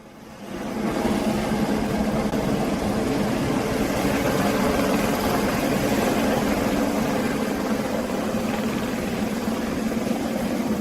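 A helicopter airlifts a 500 kg, 4.5-metre crocodile from the Komati River at Komati Port, South Africa; its rotor and engine give a loud, steady, continuous roar that fades in over the first second and holds, with no voices.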